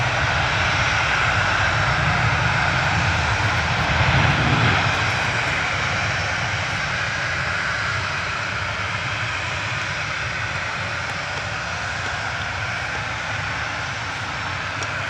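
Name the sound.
airliner jet at Manchester Airport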